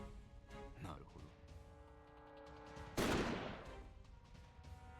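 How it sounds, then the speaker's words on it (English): A single shotgun blast hits a tree in the video game Code: Realize, a sharp loud burst halfway through that fades out over about a second above a steady background of game music. "Van Helsing levels his shotgun at a nearby tree and fires."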